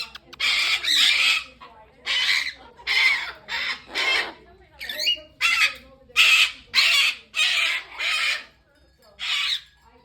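A pet cockatoo squawks loudly in a run of harsh, repeated calls, roughly a dozen close bursts in quick succession, with a person speaking softly around them.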